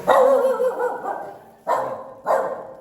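A dog barks three times nearby, one long bark followed by two shorter ones after brief pauses.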